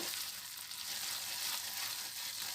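Milk and coconut barfi mixture sizzles and bubbles in a pan on high heat while being stirred, a steady close frying hiss with no talk.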